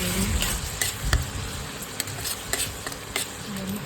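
Ginger garlic paste is stirred into a masala for green chicken in a pan: a soft frying sizzle with scattered scraping clicks of a spoon against the pan, close by.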